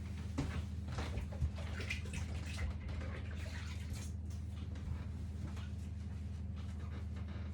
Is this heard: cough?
no